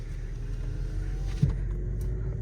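A Skoda Octavia vRS rolls slowly in first gear at low speed before a drag race against a BMW 530d, giving a steady, low engine and road rumble heard close throughout.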